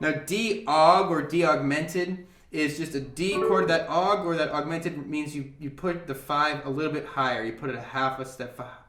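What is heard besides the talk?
No everyday noises stand out.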